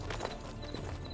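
A horse's hooves clip-clop in the Mortal Online 2 video game, a brief burst of close, muffled hoofbeats.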